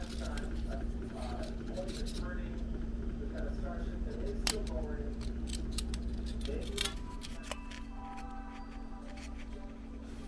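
Scissors cutting into the thin aluminium wall of a 12oz soda can, several short crisp snips and metallic crinkles over a low steady hum, with a faint voice underneath.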